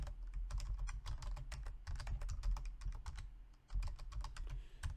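Computer keyboard keys clatter in quick, irregular bursts of close, crisp clicks, with a short pause before typing resumes.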